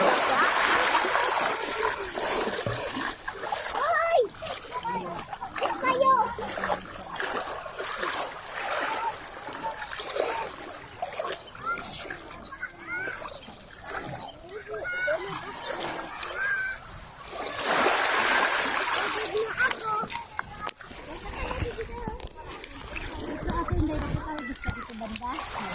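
Splashing in shallow sea water at a beach, with repeated sloshing and splatter bursts that rise and fall throughout, near and fairly loud, while people keep talking over it.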